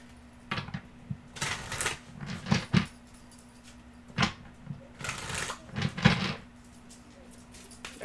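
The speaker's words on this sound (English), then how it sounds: "Shuffling the deck." Crisp riffling and snapping bursts of a deck of cards being shuffled come in short clusters, close and fairly quiet, over a steady low electrical hum.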